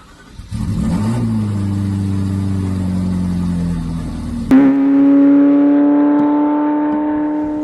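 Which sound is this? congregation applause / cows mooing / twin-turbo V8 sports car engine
twin-turbo V8 sports car engine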